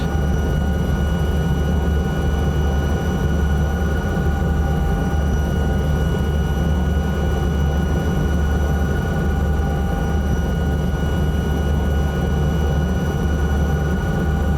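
Alouette III helicopter in Microsoft Flight Simulator 2024 drones in steady flight, a loud constant turbine whine and rotor rumble with a low heavy hum that never changes throughout.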